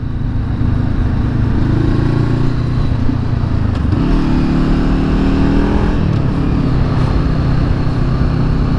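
A Honda CB500F motorcycle engine revs hard through city streets while racing a Jaguar F-Type, a loud, close drone that rises and shifts pitch through gear changes, with no one speaking.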